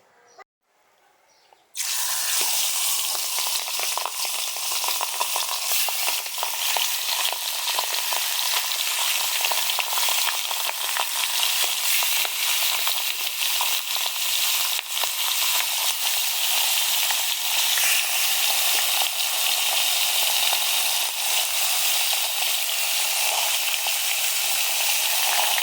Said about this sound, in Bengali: বড় পাঙ্গাস মাছ ভাজি, মাছ ভাজি হইতেছে, তেলের শব্দ শুনতে পাচ্ছেন।